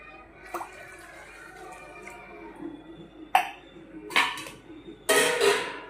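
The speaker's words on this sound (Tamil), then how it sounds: "அரை லிட்டர் தண்ணி ஊற்றியிருக்கேன்." Water splashes into a metal pot in a few short pours, mixed with faint drips and clinks of a utensil.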